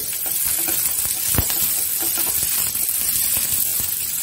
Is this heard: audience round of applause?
no